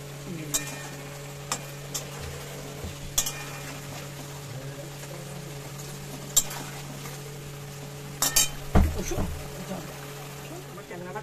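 Tangra fish cooks in a pan of spiced masala, with a steady low sizzle broken by scattered clinks and scrapes of a utensil stirring against the pan, while a person talks over it.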